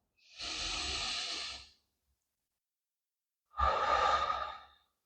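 Two long, slow breaths from a deep breathing exercise, a drawn-out inhale and then a fuller exhale after a short silence, close and fairly soft with no talking.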